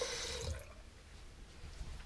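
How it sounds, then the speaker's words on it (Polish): A hand being washed under running water, with a short gush and splash at the start, then a quieter trickle and drips that continue throughout; no voices. "Umyję rękę"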